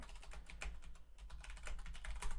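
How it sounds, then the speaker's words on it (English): Rapid, clattering keystrokes on a loud Corsair computer keyboard, heard up close as a continuous run of sharp clicks with no talking. "I have a loud keyboard."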